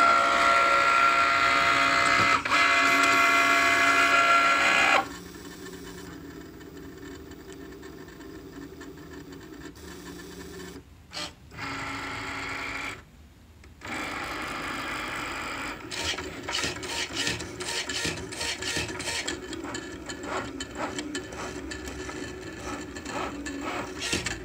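A Cricut cutting machine runs after starting a cut, giving a loud, steady mechanical whir and rasp that drops in level, pauses briefly, then resumes with rapid ticking movement, with no talking.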